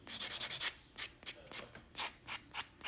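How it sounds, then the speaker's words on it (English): A Bell nail drill buffs dip-powder fingernails in short, repeated bursts of soft gritty whirring, close and faint, with brief pauses between passes. "This is a Bell nail drill"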